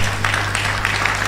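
Audience applause at a science laboratory technology induction ceremony, a steady wash of hand clapping from a hall crowd under a low hum, sustained and fairly loud throughout.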